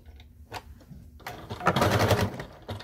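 A sewing machine stitching fleece for a hat runs in short bursts: a brief whir, a pause, then a longer, louder run of rapid stitching and a final short burst, heard close with no talking.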